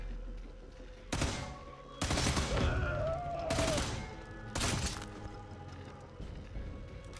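Gunfire in the Sniper Elite 5 video game, with a shot fired through metal: four loud, sharp bursts come in quick succession, each with a ringing, crashing tail, and no voice is heard.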